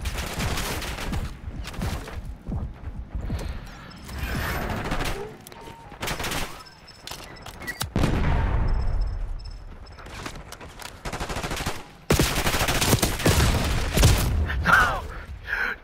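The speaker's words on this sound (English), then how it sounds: "Wow, that was a tough gunfight." Shotgun gunfight in the video game Black Ops 6: loud, rapid bursts of gunfire and heavy booming blasts come in repeated clusters, with short quieter gaps between the exchanges.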